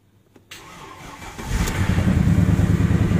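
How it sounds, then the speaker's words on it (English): A 2009 Mercedes C63 left in Harvey floodwater cranks, catches and fires, its V8 swelling from the starter whir into a loud, throbbing, rising idle up close. "this is the first attempt to start this car since the floodwaters"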